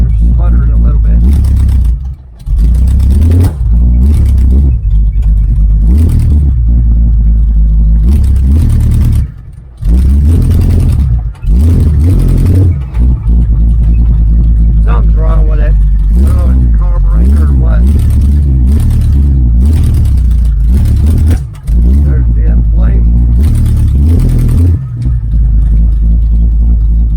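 A 1980 Camaro Z28 V8 with new headers, freshly tuned up, revs up and falls back in repeated bursts, loud and close, sputtering at times, with short pauses between runs and voices talking over it.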